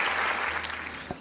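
Audience applause welcoming a speaker at a one-day makeup and hairstyle workshop in Pudukkottai, a steady wash of clapping from a crowd that fades toward the end, with a few louder claps.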